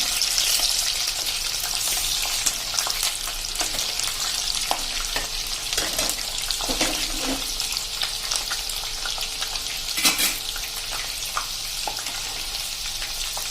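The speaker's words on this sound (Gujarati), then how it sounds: "તેલમાં દાણા ખૂટે ને તો તમારે આ રીતે એને ઢાંકી દેવાના, આ રીતે, એટલે આપણે તેલ ઉડે નહીં." Fresh green corn kernels fry in oil under a lid, producing a constant close hiss of sizzling with scattered pops and a few louder crackles.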